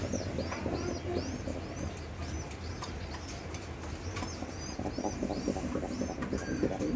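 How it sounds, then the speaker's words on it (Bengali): A newly acquired male pigeon and others coo softly in a loft, repeated low calls under faint chirps and steady background noise, with no talk. "এই যে এটা হচ্ছে আমার নতুন কবুতর"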